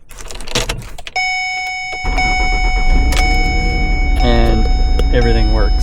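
Second-generation Ford Escape with a failing ignition switch: a key clicks and the door chime pings steadily, then the starter cranks and the engine catches into a loud, steady idle close by.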